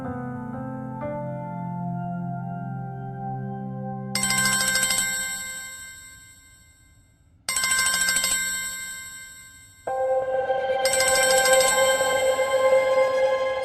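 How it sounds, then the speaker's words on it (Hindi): A mobile phone ringtone plays loud and close, a melodic electronic tune that starts, fades and restarts in several repeating phrases, with no talk over it. "ये लवली क्यों फोन कर रही है मुझे?"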